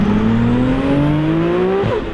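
A tuned Nissan Skyline R33 400R with a bored and stroked RB26 engine revs hard, its steady rising engine note held loud and close for about two seconds before dropping off at the end.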